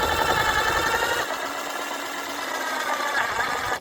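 A screw is driven into timber during a boat bow repair on rotten wood, producing a loud, steady motorized whir that drops in pitch partway through and then carries on, close by and without talking.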